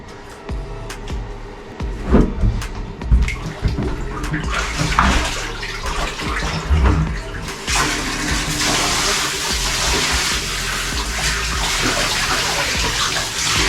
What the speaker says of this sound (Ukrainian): Я лежу, вода спускається.